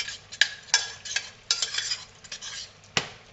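A spoon scraping and clinking in a pan as risotto is stirred with milk, in short irregular strokes with quiet gaps, heard close and alone.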